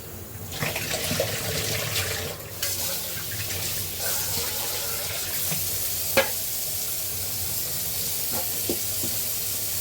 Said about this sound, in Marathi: स्वच्छ आपण धुवून घेतो